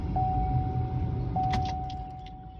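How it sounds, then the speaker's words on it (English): A car power window opening, heard inside the vehicle as a steady low motor hum and rumble, with a thin sustained electronic tone running through it and a few faint clicks partway through. "I'm gonna open up my window."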